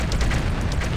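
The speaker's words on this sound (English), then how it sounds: "Vehicle destroyed." A vehicle explodes in the strategy game Outpost 2, giving a short, dense, rumbling blast that stays steady and loud for about a second.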